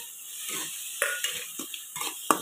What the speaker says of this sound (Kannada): ಇದನ್ನು ಹಾಕಿ ಚೆನ್ನಾಗಿ ಫ್ರೈ ಮಾಡಬೇಕು, ನೀಟಂಗೆ ಇದನ್ನು ಫ್ರೈ ಮಾಡಬೇಕು